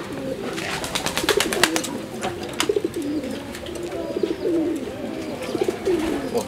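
Soft, repeated cooing of a caged female dove-like bird at close range, in short rhythmic phrases, with faint clicks and rustling around it.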